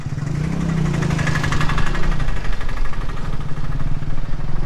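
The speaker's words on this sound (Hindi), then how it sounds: "100 सीसी बाइक" A 100 cc motorcycle idles close by, its steady low engine throb and fast pulsing vibration running continuously and growing slightly louder.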